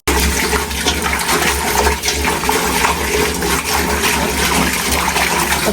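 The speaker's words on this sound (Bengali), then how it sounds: "তো ভালোভাবে একবারে ধুয়ে নিব।" Tap water runs steadily and loudly from start to finish while something is rinsed clean in a home kitchen, with no voices.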